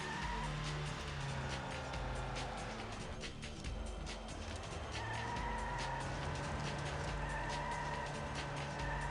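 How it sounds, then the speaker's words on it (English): A car in the PC racing game Need for Speed: High Stakes does a burnout, a steady droning engine with screeching tire squeal layered over continuous game noise, loud and unbroken. "can I do burnouts in this game?"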